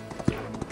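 Pony hooves drum in quick, rhythmic clip-clop beats during a race in the Equestriad World Tour video game, close and fairly steady over a busy game background.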